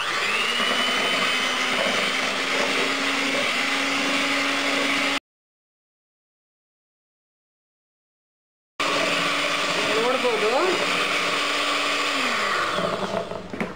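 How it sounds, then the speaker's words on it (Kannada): Hand blender whipping cream for homemade mango ice cream, a steady close motor whir running for several seconds, a short break, then resuming with shifting pitch as it works, no speech. "ನಾನು ಹ್ಯಾಂಡ್ ಬ್ಲೆಂಡರ್ ತೊಗೊಂಡಿದ್ದೀನಿ. ಇದರಲ್ಲೇ ಇದನ್ನು ಬೀಟ್ ಮಾಡ್ಕೊಳ್ಳೋಣ."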